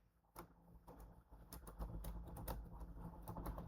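Someone typing Python code on a computer keyboard, a quiet, close run of rapid key clicks in an uneven rhythm, with no voice.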